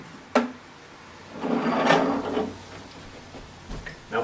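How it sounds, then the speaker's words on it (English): On a CFX carpet extractor, a sharp latch click opens the sequence, then a scraping rumble as the top half lifts straight off, followed by softer knocks and another click near the end, all close and indoors. "Now to take the CFX apart, just undo these two latches and lift the top half straight up."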